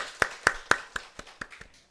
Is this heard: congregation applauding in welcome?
yes